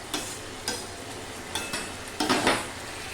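A pan of sesame and mung bean paste with okra bubbling on the stove, with soft spoon stirs and scrapes at irregular intervals over a low simmer.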